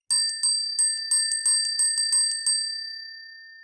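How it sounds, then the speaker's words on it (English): Small bell rung repeatedly, about ten bright metallic rings in quick succession, close and clear, with the final tone ringing out and fading, no talking. "It's always nice to ring that bell."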